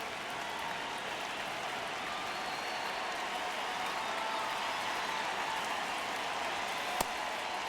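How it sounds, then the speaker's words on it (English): A large stadium crowd in the baseball video game MLB The Show 26 roars in a continuous, loud wash of cheering and clapping, with no speech over it. "Crowd is really loud."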